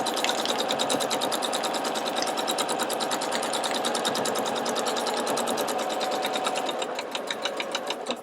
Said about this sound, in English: We're going to stitch all the way along this line.